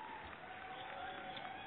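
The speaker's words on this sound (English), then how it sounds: "Let me give you our studio applause." Canned studio applause sound effect played on a radio show, a steady wash of clapping from a crowd, faint and band-limited, heard briefly on its own.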